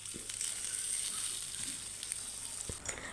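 A stew of ingredients covered in water cooks down in a pan for an Indonesian dish, giving a steady faint hiss and sizzle with a few soft pops and crackles, no voices.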